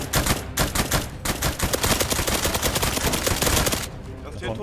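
Gunfire in the video game DayZ, a loud rapid string of shots firing in quick succession for several seconds before cutting off abruptly near the end.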